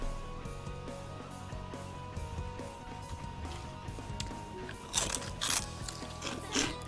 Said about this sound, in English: Sorry for the crunching noises.